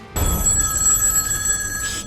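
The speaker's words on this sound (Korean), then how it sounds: "또 전화를 걸어옵니다" Telephone ringing with an incoming call: an electronic bell tone starts abruptly and rings steadily for about two seconds, loud and close with no speech.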